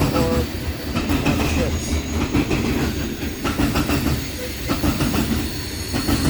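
A freight train with a Union Pacific DPU engine rolls past close by, loud rail rumble with rhythmic clickety-clack of wheels over joints and some wheel squeal, while a voice briefly speaks over it.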